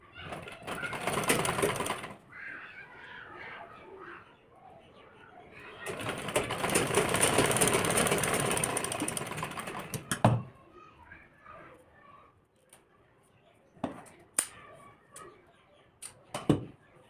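Two long bursts of sewing machine stitching on a blouse, close and fairly loud, separated by a pause, followed by scattered clicks and taps of fabric handling.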